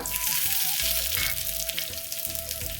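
Mustard seeds and curry leaves sizzle loudly in hot oil for a South Indian tempering, a dense crackling hiss throughout, with quiet music faintly audible beneath.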